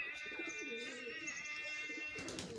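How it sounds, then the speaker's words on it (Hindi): Soft, low coos from many pigeon breeds, including Punjabi breeds, roll steadily over a busy background of other birds chirping and calling nearby. "दोस्तों आप देख रहे हैं यहाँ पे हर किस्म के कबूतर हैं"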